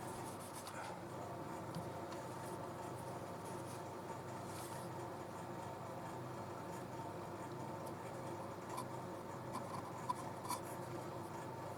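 A firewood cherry bowl is hand sanded with 320 grit sandpaper, a steady continuous rubbing hiss over a low, even background hum, with no talking.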